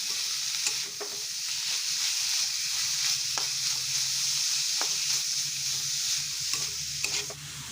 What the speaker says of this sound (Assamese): এয়া কল পচলাখিনি দি ভালকৈ লৰাই থাকিব লাগিব।